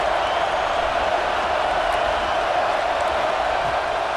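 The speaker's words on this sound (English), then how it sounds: "The Buckeye crowd alive on third down." A steady, dense roar from the Ohio State Buckeyes home stadium crowd in the College Football 26 video game, cheering on third down, holding at an even level throughout.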